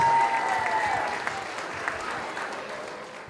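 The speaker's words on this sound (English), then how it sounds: "Have another round of applause for Hudson cheerleaders." Loud applause from a crowd for cheerleaders at an elementary school winter program, strongest at the start and gradually fading over a few seconds.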